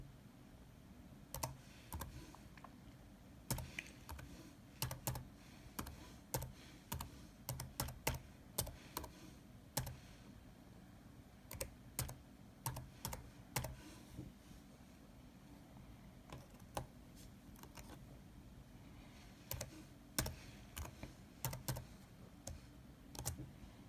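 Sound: typing an email on a computer keyboard

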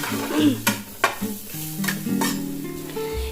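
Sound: sausage frying in butter with black pepper

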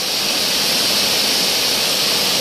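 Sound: strong river current, rushing water

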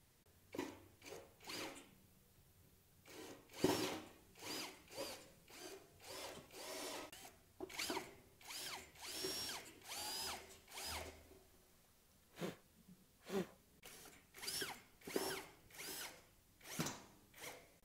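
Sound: power drill drilling holes for screws in a school desk

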